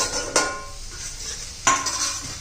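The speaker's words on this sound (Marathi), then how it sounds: "अधूनमधून हलवत राहायचे." Two sharp metallic scrapes and clanks from stirring sliced bitter gourd in a pan, close and distinct, separated by a soft background of gentle cooking noise.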